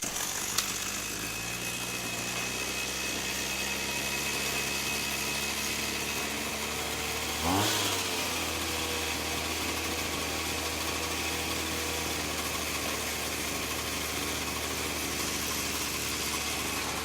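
A Makita whipper snipper with its clutch stuck engaged runs at a steady drone for the whole stretch, with a brief rev surge partway through, then settles back to the same continuous hum with no talking.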